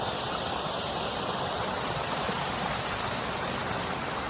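A waterfall heard from close by in a forest, a loud, steady broadband roar of falling water that holds constant and alone throughout.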